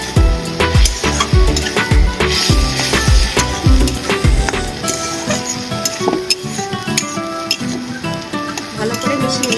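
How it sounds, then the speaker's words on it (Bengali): A pan of coconut potato curry with coriander and chili powder is stirred vigorously, with repeated scraping, clinking spoon strikes and a low sizzle up close, steady throughout. "ভালো করে মিশিয়ে নেব।"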